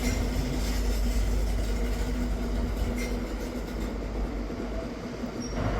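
Train 43181 pulls out of Perth station with a steady low rumble and rolling wheel noise, close and continuous, and a faint squeal near the end.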